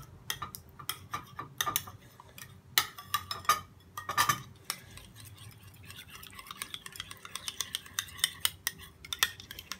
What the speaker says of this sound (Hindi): ये देखिए जी, हमने इसको मिक्स कर लिया अच्छा सा